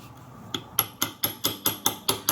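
A metal chisel is struck repeatedly to chip old grout from around a hexagon tile, giving about eight sharp, evenly spaced taps, close and clear with nothing else over them.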